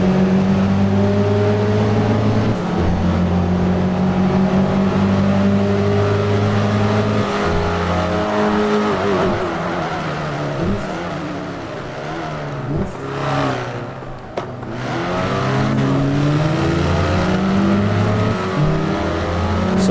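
Dacia Sandero RS and Hyundai i20N engines racing up the Transfagarasan hill climb, revving hard through gear changes with a steady loud drone, a dip and swell midway as the cars push uphill.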